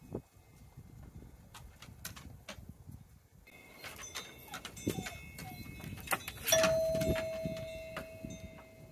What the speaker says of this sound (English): let's see if we can get my dog to ring the doorbell or not